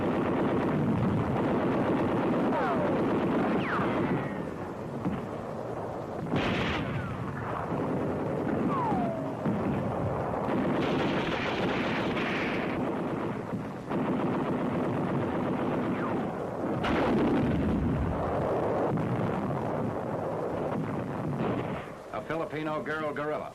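Rifle and machine gun fire from WWII street combat in Manila rattles in loud, repeated bursts through a newsreel soundtrack, with someone speaking over the shooting throughout.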